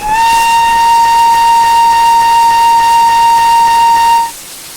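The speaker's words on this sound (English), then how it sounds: "there's an obvious loop in the spacebar whistle audio" A steady steam locomotive whistle from an LBSCR E2 class locomotive in Train Simulator sounds as one long, loud, unbroken tone for about four seconds, then cuts off abruptly, with a slight hiss underneath.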